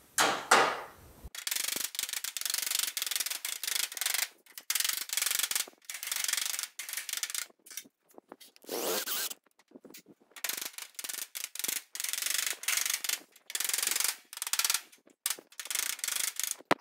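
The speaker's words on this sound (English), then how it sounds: "we're going to take a hammer and dolly and just massage that around and shrink the upper metal into itself" Rapid metallic tapping and hammering in bursts, close by, with brief pauses between runs of blows as a hammer and dolly shape and shrink sheet metal for a 1940 Ford Coupe trunk floor.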